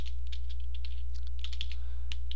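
Fingers tap out a command on a computer keyboard in a quick run of light, irregular clicks over a steady low electrical hum.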